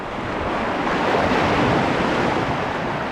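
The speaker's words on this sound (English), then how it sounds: "I'm gonna have to take precaution to these waves real quick." Ocean waves break at a California jetty in a loud, continuous surf roar with wind buffeting the microphone, steady and close, with no talk.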